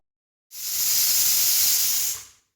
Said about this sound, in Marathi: कुकर होतं आहे कुकरमध्ये बटाटे लावलेत